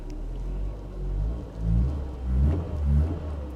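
A Hyundai Veloster Turbo's engine idles with a low rumble, swelling in a few gentle revs at a salvage auction lot, close and steady with no talking.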